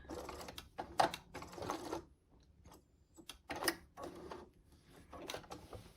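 A sewing machine stitches fabric to the corner of a picture frame flange border, running in a few short bursts of mechanical whirring with brief pauses between them, close and fairly loud, with no talking.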